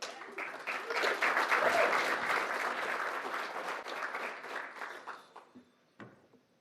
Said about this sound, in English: Please give me a round of applause for Angela Rizzo.